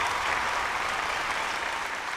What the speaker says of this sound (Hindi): बार ताली बजा दा जा सेर